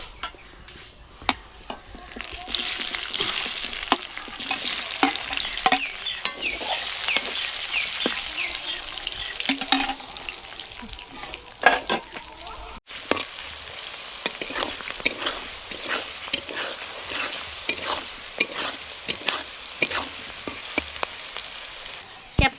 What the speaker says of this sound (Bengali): এবার আমি কেটে রাখা টুকরো করা ক্যাপসিকামগুলো এই তেলেই ভেজে নেবো